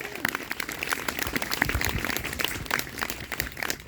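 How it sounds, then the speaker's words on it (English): Audience clapping at a band awards ceremony, a steady patter of many hands sustained throughout at moderate loudness, with no talking over it. "We can clap for that, absolutely."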